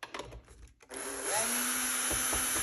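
A powered screwdriver whirs loudly and steadily, backing two screws out of the heat shield of an overheating Epson 2030 projector during disassembly, after a few soft handling knocks.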